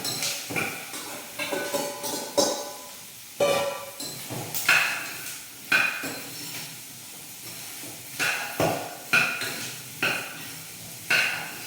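Okra tipped into a hot pan, stirred and frying, with repeated bursts of scraping and sizzling at close range over a steady low hiss, no talk.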